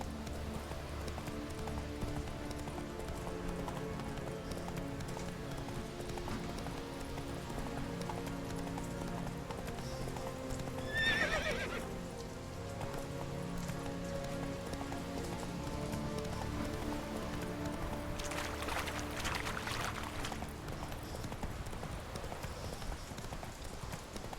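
Hooves of a horse galloping in The Witcher 3: Wild Hunt video game, a steady clip-clop rhythm running under a layered game soundscape with a brief bright flourish midway.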